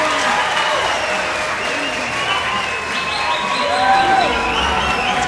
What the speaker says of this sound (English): Good cheer from the crowd.